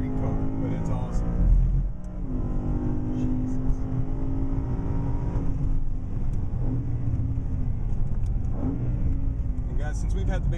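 A BMW M3 with the competition package and seven-speed dual-clutch transmission accelerates on the Daytona track, its engine note climbing through rising pitch sweeps with gear changes, heard from inside with a voice talking over it.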